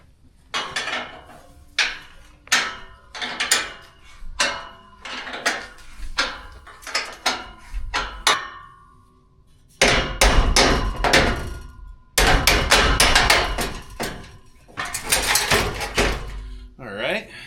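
A hammer strikes the hinge of a metal pipe gate in a series of sharp, ringing metallic blows, spaced irregularly with short pauses and close to the microphone.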